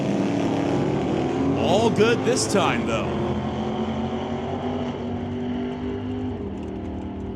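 1983 Firebird drag race car running down the track, a loud sustained engine roar with a brief rising rev near the start, heard under a commentator's talk before easing off.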